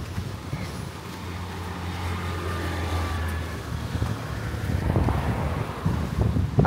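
Small waves wash onto an empty golden-sand beach in a quiet Vietnamese town, a soft continuous surf swelling toward the end, heavily mixed with wind buffeting the microphone.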